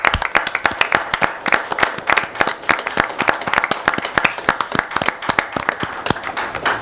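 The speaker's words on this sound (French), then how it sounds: "Je pense qu'on va vous applaudir." Applause at a municipal council meeting: a room of people clapping steadily and fairly close, dense overlapping hand claps sustained throughout with no talk over them.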